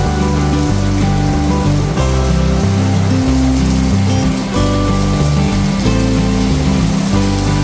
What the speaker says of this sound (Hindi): बस देखते ही देखते बारिश शुरू हो गई।